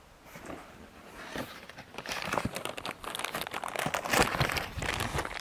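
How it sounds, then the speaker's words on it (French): Packaging for a STIHL HT KM pole pruner crinkles and rustles as it is unwrapped, in irregular close-up bursts that build in loudness toward the end. "on va voir le déballage de la perche"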